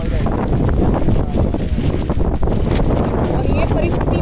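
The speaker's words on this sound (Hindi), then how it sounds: "बहुत हवा चल रही है" Strong wind from Cyclone Nisarga in Mumbai roars hard against the microphone, a loud, continuous buffeting rumble that fills the whole short stretch.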